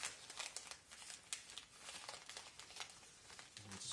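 Paper crinkles and rustles up close as it is folded and tucked into a handmade paper waste basket, an irregular stream of soft crackles and crisp creasing sounds.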